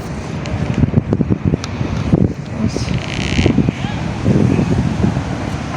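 Cold wind gusts across the microphone in low, rumbling bursts that rise and fall unevenly, with faint muffled background sounds beneath.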